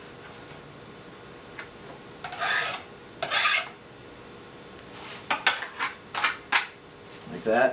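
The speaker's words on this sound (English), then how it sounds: "You take a little container, this is what the wax came in, and scrape it right in there." Snowboard wax being scraped off a board into a small container, several short rasping strokes in quick bursts, fairly close, with a brief spoken remark.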